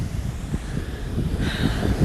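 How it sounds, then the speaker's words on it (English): Blustery wind buffets the microphone in a steady, rough rumble, with a soft wash of surf-like noise underneath and no voices. "it's a bit windy"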